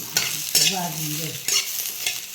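Sliced onion hits a hot pan with roasted coconut for a grandmother's old-style spicy curry, giving short loud bursts of sizzle and spatula scraping that rise, dip and flare again at close range, with no talking.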